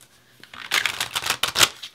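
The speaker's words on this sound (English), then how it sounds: "I'm gonna shuffle it." A deck of tarot cards is shuffled up close, a quick series of crisp riffling bursts and soft card slaps lasting over a second.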